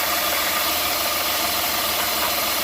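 A car engine idles steadily at 800 RPM with a rough, even rumble and a faint rattle, set for the right air-fuel ratio while being checked for a vacuum leak; it is close and continuous, with no talk.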